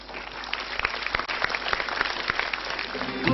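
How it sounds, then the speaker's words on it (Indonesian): Studio audience applause on an Indonesian motivational talk show, a steady dense wash of clapping sustained throughout at moderate loudness with no talk over it. "tepuk tangan yang meriah untuk pilihan Anda pemirsa"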